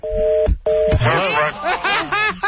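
Telephone keypad dialing tones beep in a quick series of steady tones, loud and close, followed by chuckling and laughter from people nearby.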